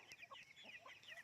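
Chickens cluck in short, soft, scattered bursts, fairly close, before a sudden loud noise cuts in at the very end.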